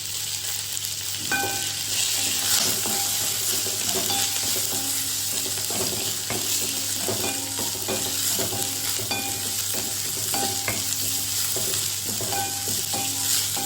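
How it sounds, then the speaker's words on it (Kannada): Cumin seeds crackle and sizzle in hot oil for paneer butter masala, a steady close-up hiss punctuated by light, repeated stirring clicks. "ಸ್ವಲ್ಪ ಜೀರಿಗೆಯನ್ನು ಹಾಕ್ತಾ ಇದ್ದೀನಿ"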